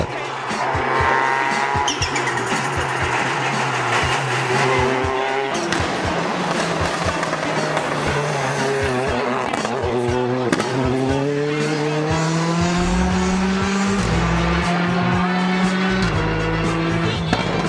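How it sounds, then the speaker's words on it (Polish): A Fiat 126P rally car races at a Slovak hill event, its engine loud and high-revving through shifting pitches, with tires squealing and skidding as it pushes hard through the course. "Konrad Tadla przywiózł na zawody Fiata 126P, który robił równie wielką furorą jak Skody Octavia WRC i Skoda Fabia WRC"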